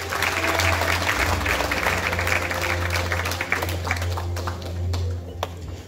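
Steady audience applause fills a gala awards evening in Poland, dense continuous clapping from a large hall crowd that holds strong for the whole stretch before tapering slightly near the end.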